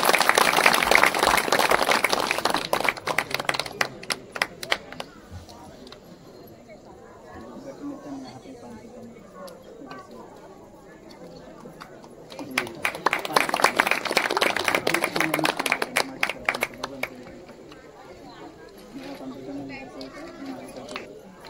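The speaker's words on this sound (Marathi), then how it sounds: "टाळ्या पण वाजवू देत." An audience claps at a ceremony in a Swami Samarth temple in two bursts of scattered hand claps. Between the bursts there is background chatter, and people talk throughout.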